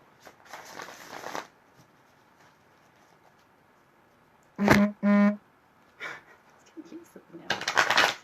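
Oracle cards being riffled and shuffled in short bursts, with a brief burst of speech in the middle and more shuffling toward the end.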